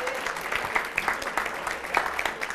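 Audience applause in a studio during a school quiz programme, steady dense clapping from a crowd throughout, fairly loud and continuous with no talk over it.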